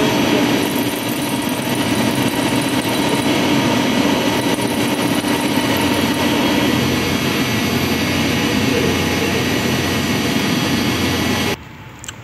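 Diamond wheel grinding machine running while making step drill bits, producing a loud, steady broadband whirring roar that holds constant for about eleven seconds before dropping off abruptly.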